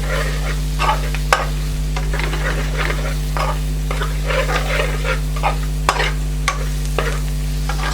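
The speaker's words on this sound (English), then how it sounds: "What we're doing now is we're roasting those spices." Brown cumin seeds and spices roasting in a pan for a mixed balti, a loud, close frying hiss with rhythmic scraping stirs and a few sharp metallic knocks over a constant low hum.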